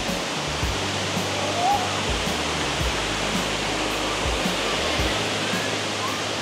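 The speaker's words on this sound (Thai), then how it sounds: "พาตัวเองไปเดินใกล้ๆตรงหน้าผาน้ำตก" Dai Chong Thong waterfall in Sangkhla Buri roars as a constant, loud, broadband rush of falling water heard close by, steady for several seconds with no talking.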